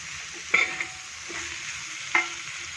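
Soya balls in masala sizzle steadily in a pan on low heat while a spoon scrapes and stirs through them in three distinct strokes, close and clear.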